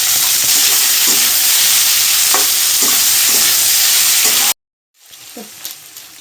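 Onion and capsicum for restaurant-style chilli chicken fry in a pan with a loud, steady sizzle and scattered spatula scrapes, ending abruptly before a quieter stretch of faint stirring.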